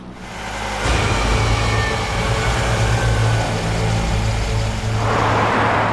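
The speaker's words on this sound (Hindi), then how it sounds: "गाड़ी की आवाज़ से सब लोग घर में जाग जाएंगे आगे।" A car engine starts with a sudden rise and then runs at a loud, steady rumble close by at night, with no speech over it.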